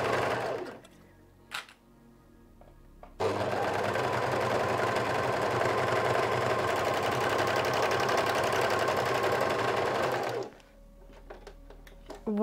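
Close and loud, a sewing machine stitches a sweater in one long steady run of about seven seconds, with quieter room sounds before and after.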